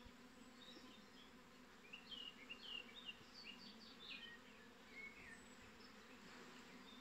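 Honey bees buzzing around a beehive during a honey super inspection, a steady close drone with individual bees whining past in brief louder swells, no talking.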